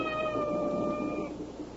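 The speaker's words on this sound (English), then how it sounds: "Well, there goes that cat again." A cat meows in one drawn-out, wavering cry lasting over a second, close and fairly loud against a steady background hum.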